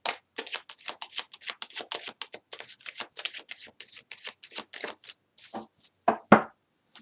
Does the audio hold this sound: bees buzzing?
no